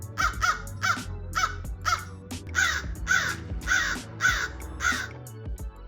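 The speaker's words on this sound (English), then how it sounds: "American crow, backyard brainiac." An American crow caws about ten times in a steady, evenly spaced series, each call loud, harsh and close, over a faint low background hum.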